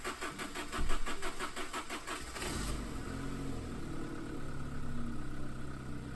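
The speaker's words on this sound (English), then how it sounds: "Decided to crank them over and see if we can get them started." A classic Saab barn-find car engine cranks with a rapid rhythmic churning for about two seconds, then catches and starts, settling into a steady, fairly loud idle with a slightly rough exhaust note.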